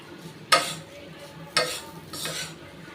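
A spoon scrapes and tosses fried colocasia (taro root) in a pan, three distinct stirring sweeps over a faint background sizzle.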